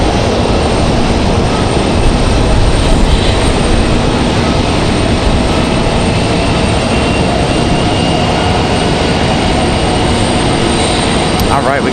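A Boeing 787 Dreamliner touching down at Raleigh-Durham International, a steady, loud broadband jet roar that holds through the whole stretch, with a voice talking over it at times.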